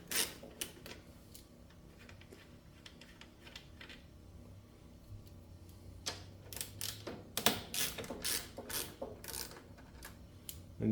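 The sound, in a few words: ratchet undoing screws on Cub Cadet snowblower carburetor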